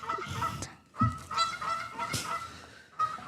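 Geese honk repeatedly in loud, overlapping calls with brief pauses between bursts, close by and with no talk over them.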